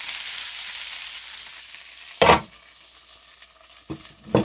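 Beef wrap filling sizzling on a Grill Boss 90057 dual fuel griddle, a steady hiss with a few louder scraping stirs of a utensil, no talk.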